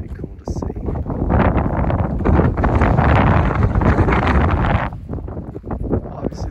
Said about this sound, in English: Obviously the wind's pretty strong.